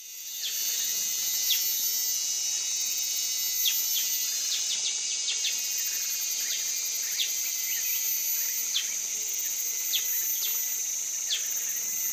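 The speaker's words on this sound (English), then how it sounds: "replaced by the thrum of cicadas and the chirping of crickets" A dense, high drone of cicadas fills the background of a Thai rainforest continuously, with scattered short cricket chirps rising above it throughout.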